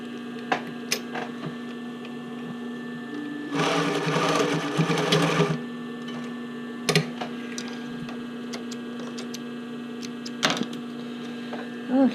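Sewing machine stitching a straight row along a bra band: a two-second burst of close mechanical whirring over a steady electrical hum, with scattered clicks and taps before and after.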